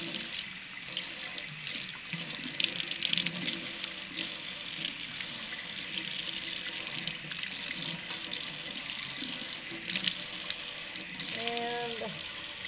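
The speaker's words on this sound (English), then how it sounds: "Let the water go over it. I'm gonna turn it across the lenses." Tap water runs steadily and fairly loudly for the whole stretch, a continuous splashing rush over plastic eyeglass lenses held under the stream.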